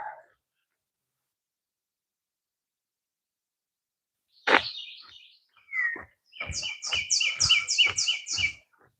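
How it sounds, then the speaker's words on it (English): Birds sing outdoors in quiet surroundings: a sharp call, then a few chirps and a run of about eight quick, evenly spaced high notes, clear and fairly near. "Listen to them birds singing."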